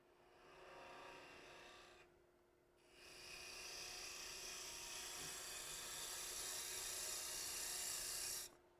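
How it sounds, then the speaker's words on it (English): A steep-angled scraper cuts the end grain inside a turned three-sided wooden box, giving a faint, steady whirring hiss that pauses briefly, resumes and runs on before cutting off. "It's basically just a scraper, and I've got a fairly steep angle on there, so that I can just cutting with the very tip"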